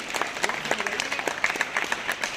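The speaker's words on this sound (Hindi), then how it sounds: "ताली तो बजा दीजिए" An audience at a school sports event claps in a brisk, scattered round of applause, honouring a runner, with a faint voice underneath.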